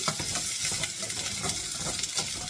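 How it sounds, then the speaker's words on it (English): Cut vegetables sauté lightly in oil in a pan, a lively close sizzle broken by the repeated scrape and clatter of stirring. "So I'm going to lightly saute my veggies."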